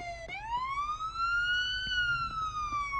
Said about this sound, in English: And here comes the ambulance.